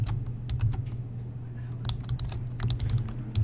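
Typing on a computer keyboard into a text file in Notepad on Windows, a quiet run of close key clicks in uneven bursts over a low steady hum.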